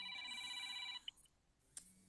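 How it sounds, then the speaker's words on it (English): A mobile phone rings in a room during a livestreamed talk, giving a steady electronic tone for about a second before it stops, followed by a few faint clicks and handling noises. It sounds fairly quiet and slightly distant. "Somebody's phone is ringing."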